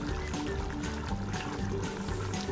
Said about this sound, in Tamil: எப்படி கொதிக்குது பார்த்தீங்களா?